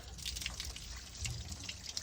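Water is poured and drips during a leak test on a VW Golf Mk7, making soft irregular splashes and trickling close by with a few brighter drip spikes over a low background rumble.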